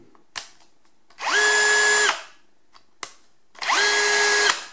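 A Bosch AdvancedImpact 18 cordless drill in drill mode spins up twice in short bursts, each a loud whining motor rising quickly to full speed, holding for about a second, then winding down, with sharp clicks between runs.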